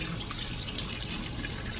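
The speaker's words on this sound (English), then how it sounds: "These come clean, ironically enough, with just a little bit of water." Tap water runs continuously over degreased engine parts being washed clean, a steady, fairly loud splashing stream with no talking over it.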